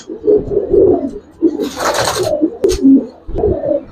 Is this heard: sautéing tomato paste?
no